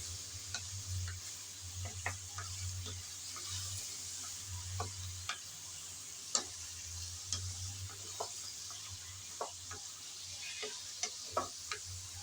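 Ridge gourd and shrimp fry together in a pan with a soft steady sizzle. Regular light taps of a spatula stirring come through close by, with a low hum underneath.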